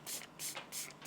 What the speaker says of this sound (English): just give everything a good liberal spray